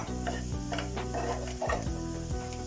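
Onions fry in a pan for a chicken dish, giving a close, steady sizzle broken by a few soft scrapes and clinks of stirring, with no voices.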